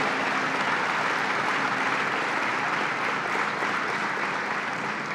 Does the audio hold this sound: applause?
yes